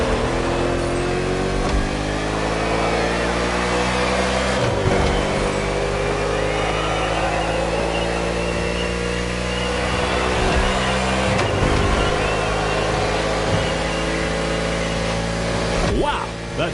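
Race car engine in The Crew Motorfest video game, roaring loud and close with steady high revs and rising pitch sweeps through gear changes, under an excited commentator's voice.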